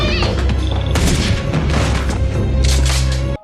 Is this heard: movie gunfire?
yes